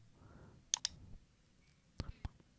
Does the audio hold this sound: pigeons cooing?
no